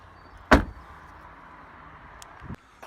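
A Suzuki Swift Sport's bonnet being opened: one sharp, loud release clunk near the start, then quiet cabin ambience and a smaller thump near the end.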